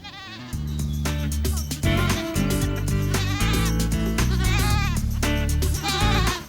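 Goats bleat repeatedly on a farm in a loud, dense, continuous run of overlapping calls, with no pauses between them.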